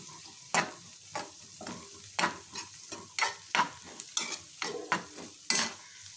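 Vegetables and sweet corn for a children's snack are stirred in a hot pan, giving a run of distinct scraping strokes about every half second over a soft, steady sizzle, close and alone.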